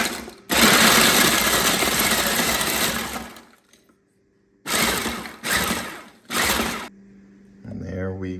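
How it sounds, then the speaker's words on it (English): A food processor grinds crisp toasted bread into breadcrumbs, with a long loud whirring run followed by three short pulsed bursts, and then a brief voice speaks at the end. "Put it in the food processor"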